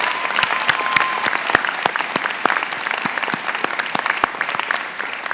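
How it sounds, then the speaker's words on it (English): Audience applauding at a university undergraduate commencement ceremony in Boston, a loud sustained round of clapping with sharp individual claps standing out near the front, fading slightly at the end. "Let's give them all one more round of applause"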